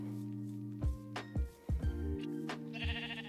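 Sheep in QuestCraft, the Minecraft VR game, bleat several times in short, clear calls spaced unevenly over a quiet background, with no talking.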